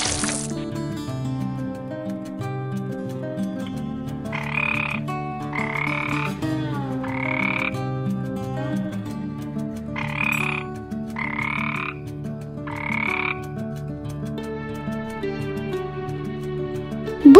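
Frogs croaking in a pond, a series of separate croaks in pairs and threes over a soft watery background with gentle tonal music beneath, fairly close and clear.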